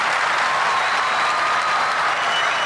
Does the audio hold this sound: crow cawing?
no